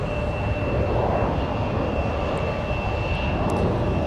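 Embraer E175 and CRJ regional jets at Minneapolis–St. Paul airport make a loud, continuous engine roar with a thin high whine running through it, steady and close, with no talking.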